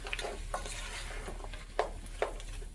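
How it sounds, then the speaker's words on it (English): Chopped green bell peppers go into a hot pot of vegan sweet potato chili, making a low sizzle with a few soft stirring clatters and thumps as they land. "I got some green bell peppers in this too, so I'm just going to add some of that in there too."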